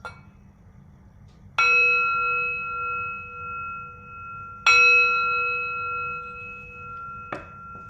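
A bell struck three times, each ring a clear, bright metallic tone that decays slowly and evenly over a quiet room background.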